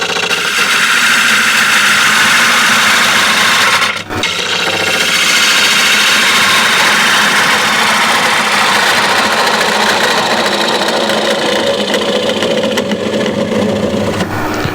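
A wood lathe spins a walnut and ash bowl while a 16 mm gouge cuts it, making a loud steady whirring drone that briefly dips near the start and then runs on evenly.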